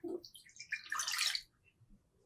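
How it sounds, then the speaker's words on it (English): Water poured from a cup into a cooking pot while preparing keto churro dough, a brief splashing burst lasting about a second, close and moderately loud, then trailing off into quiet. "we are going to be adding 1 cup of water to this pot"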